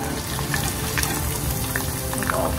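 Prawns fry in a pan with a steady, dense sizzle and crackle, with occasional small pops and a faint scrape near the end; no one speaks.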